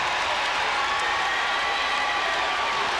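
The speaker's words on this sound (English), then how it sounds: "Crowd reacting as Enrico Ciccone heads off." A hockey arena crowd roars as Enrico Ciccone heads off the ice during a 1993-94 NHL game, a dense, steady wash of cheering and applause that stays loud and even throughout.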